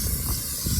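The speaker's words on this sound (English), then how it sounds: "there he's spraying down the coating" A sprayer applies coating over a primed metal roof, giving a steady, broad, close hiss with no break.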